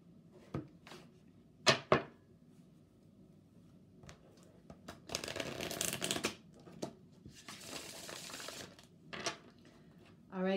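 A deck of tarot oracle cards being shuffled in soft bursts, with sharp riffles and longer flurries separated by quiet gaps, close and fairly faint.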